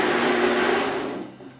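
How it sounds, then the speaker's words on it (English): A high-power K-Tech blender runs at full speed on raw red pepper soup, a loud dense whir that holds steady and then begins to fade toward the end. "I'm just going to blend this now."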